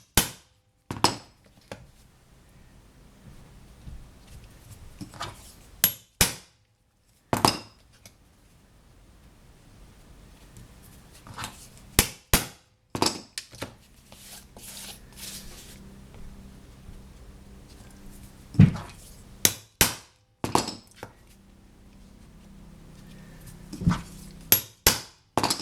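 A hammer drives a chisel into a wooden box top, the flat side of the blade set in the cut. It gives a series of loud, sharp knocks at irregular intervals with quiet gaps between them, and nobody speaks.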